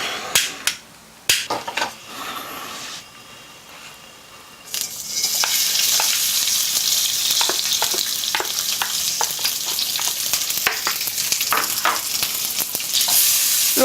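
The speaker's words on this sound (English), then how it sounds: "now the first thing we do is light our fire and cook up the lard" Lard frying in a pan over a fire for a Malaysian mee hoon dish: a few sharp knocks and quiet stretches, then a loud, continuous sizzle begins partway through, dotted with utensil clatter.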